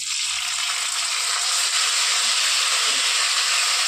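Onions fry in a pan as tomatoes go in for a Hyderabadi chicken curry, giving a steady, loud, close sizzle and hiss that holds at an even level, with no speech heard.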